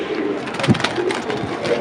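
Pigeons coo in soft, low, throaty bursts over a steady background hum, with one fuller coo standing out near the middle.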